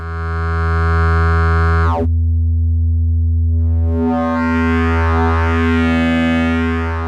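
A loud, steady synthesizer drone from static wavefolding with two oscillators, rich and buzzy, cuts out briefly, then returns with shimmering, slowly shifting upper harmonics and slight beating.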